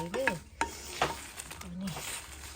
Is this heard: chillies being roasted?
yes